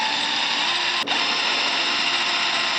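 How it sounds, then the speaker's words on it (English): A power drill boring mounting holes for a motor into a cheap electric scooter frame, a loud steady whine with a brief stop and restart partway, close up and with no talk. "Now I'm going to drill out all the holes to mount the motor."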